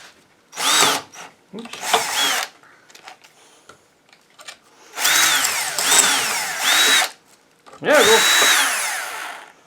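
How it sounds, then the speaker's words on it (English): A hand-held power drill bores into metal with a dull bit while making a dovetail saw, running in three bursts of whining, rising and falling motor pitch with grinding bite, separated by pauses; a person speaks briefly between bursts. "Maybe start with a sharper drill bit"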